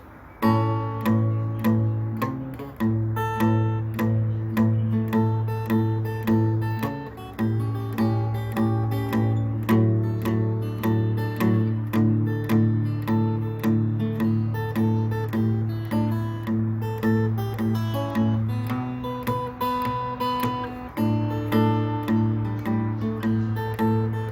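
Bluesy electric guitar plays the verse of a song, a repeating riff with strummed chords over a low shuffling bass pattern, steady and clear with no voices.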